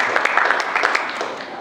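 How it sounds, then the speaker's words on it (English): Audience applause at a corporate launch event, a short burst of scattered clapping from a room of guests that fades quickly, with a faint voice in the background. "Please clap your hands, please."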